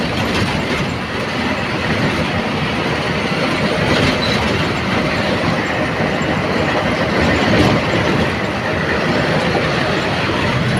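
A train rolling across a railway bridge over the Godavari river, a continuous loud rumble with clattering wheels and occasional squeals, close by and steady throughout.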